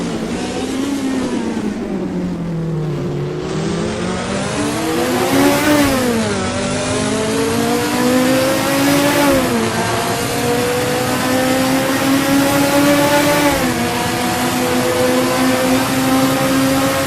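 Group C race cars, a Ford and a Porsche, race at Le Mans 1985 in a video game. A loud engine rises in pitch, drops sharply at repeated gear shifts and climbs again, with no talk.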